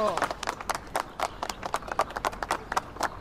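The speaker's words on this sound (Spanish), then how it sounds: "¡Fuerte ese aplauso!" Crowd applause at a plaza naming ceremony, a steady patter of many hands clapping with rhythmic bursts over several seconds, fairly close and lively.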